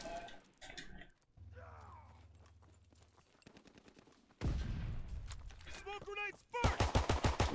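Gunfire from a PPSh submachine gun in the video game Call of Duty WW2 comes in sharp bursts, with a rapid string of loud shots at the end mixed with other game sounds.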